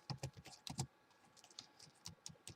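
Quiet keystrokes on a computer keyboard during late-night programming, irregular clusters of close clicks separated by short pauses, with no voices.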